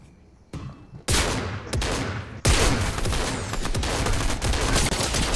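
Bursts of rapid gunfire in Fortnite, loud and close, with sharp onsets followed by sustained volleys and no talk over them.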